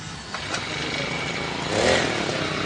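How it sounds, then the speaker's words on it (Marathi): A Vitu Mauli farm engine is cranked and catches, settling into a close, steady mechanical run with a rough clattering rumble that swells slightly near the end. "आता हे पहा, समर्थ चालू करून दाखव एकदा."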